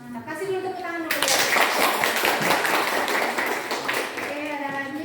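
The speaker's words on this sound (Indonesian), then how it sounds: "Kasih dulu tepuk tangan dulu" Students in a classroom clap together for a group presentation, a burst of brisk applause that breaks in after a voice speaks and fades as talking resumes near the end.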